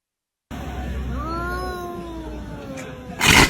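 An irritated cat lets out a long, drawn-out, wavering meow close up, followed by a short burst of rustling noise at the end.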